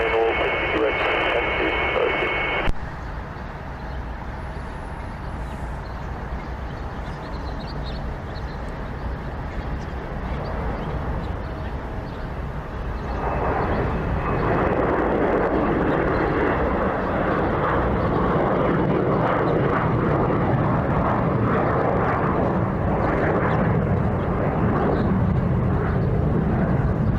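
A jet airliner departing at Columbus CMH airport roars in a broad, steady rumble that swells partway through and holds loud to the end, with radio chatter and talk heard early over it.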